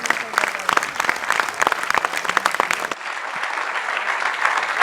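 A large crowd of students applauds at a teachers' meet-up, loud dense clapping up close with cheering voices mixed in, the clapping giving way partway through to a roaring crowd wash.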